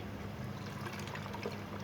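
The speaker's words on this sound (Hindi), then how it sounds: "अब हम इसके अंदर 1/2 गिलास पानी का ऐड करेंगे" Half a glass of water poured into a blender jug while making homemade Pakistani beef nalli nihari, a soft, steady trickling stream heard close and alone.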